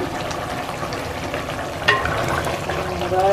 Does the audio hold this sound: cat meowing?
no